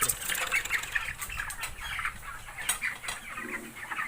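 Broiler chickens about 21 days old on a farm, a dense flock clucking and rustling with bursts of wing flapping, steady and fairly close throughout.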